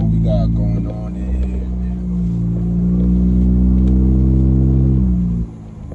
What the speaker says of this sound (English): This is no V8. This is no V6. This is none of that. This is rotary engine, man.